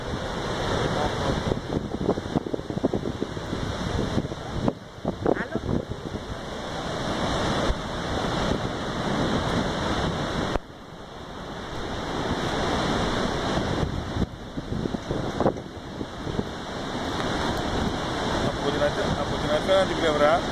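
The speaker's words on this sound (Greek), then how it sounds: "Από την απέναντι πλευρά, βλέπετε, είναι οι καταρράκτες της Αμερικής." Steady roar of the American Falls at Niagara, a broad rushing wash of water heard from across the river, buffeted by wind on the microphone, with someone talking over it.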